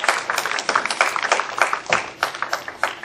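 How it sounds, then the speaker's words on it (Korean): Church congregation clapping together after a request for applause, a lively patter of many hands with uneven rhythm, fairly close and continuous, with no talk over it. "박수 한번 주세요."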